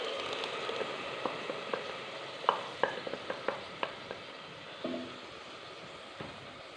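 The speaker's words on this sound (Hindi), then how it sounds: "अदरक और लहसुन का पेस्ट हमने ब्राउन कर लिया है। अब इसके अंदर हम टमाटर शामिल करेंगे जो हमने ग्राइंड किए हैं।" Ground tomatoes go into a pan of browned ginger-garlic paste, giving a faint steady sizzle broken by scattered soft clinks and scrapes of stirring, with no voices.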